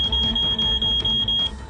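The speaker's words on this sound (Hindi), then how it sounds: "इस एक रहस्यमयी मैसेज के साथ ही बीप की आवाज आनी शुरू हो जाती है" Pagers beep as an incoming message arrives: a loud, steady, high electronic beeping that pulses in short repeated bursts and continues for nearly two seconds.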